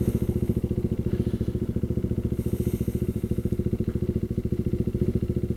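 A KTM Duke 390 motorcycle runs steadily under a rider, its single-cylinder engine giving a loud, even, rapid chugging pulse that continues without a break throughout, with no one speaking.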